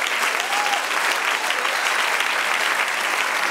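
A church congregation applauds in praise, producing dense, steady clapping that fills the room evenly from start to finish, with no speaking voice on top.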